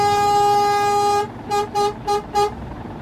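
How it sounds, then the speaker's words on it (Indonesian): A Scania K410 bus horn in the Bus Simulator Indonesia game, its third horn option, holds one loud, steady, chord-like blast for over a second. Four short, evenly spaced toots follow, with no talking. "jujur aku suka sama klakson tiganya ini"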